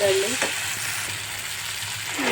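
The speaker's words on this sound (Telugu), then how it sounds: "ఆల్మోస్ట్ ముక్కలు ఫుల్గా ఫ్రై అయిపోయాయి" Vegetable pieces for mint chutney fry in a pan with a steady, close sizzle, with soft scraping and stirring noises throughout and no talking.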